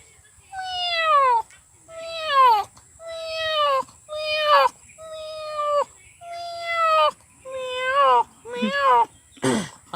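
A human voice imitates a cat's meow, repeating about eight drawn-out, descending mewing calls in a steady rhythm, close and clear against a quiet background.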